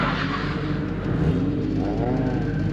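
A Nissan S14 engine drones and revs while drifting, a loud, steady, rough roar with a slight rise and fall, close by and with no talking.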